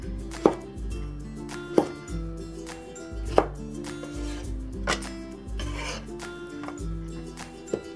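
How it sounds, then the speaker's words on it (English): A knife chops tomatoes into large chunks on a cutting board, with about seven distinct, evenly spaced thuds and a soft rubbing sound between cuts, fairly quiet, with no talk. "Next, let's cut the tomatoes. Just cut into large chunks in half and then another half."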